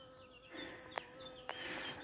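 Faint, quiet buzzing of solitary bees drifting nearby after release through an opened vent, with two sharp little clicks breaking in partway through.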